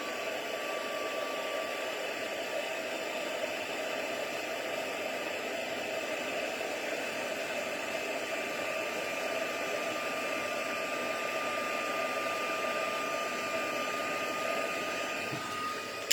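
A heat embossing tool blows steadily while a card is embossed, a constant close whirring hiss that holds without change for the whole stretch, with no voices over it.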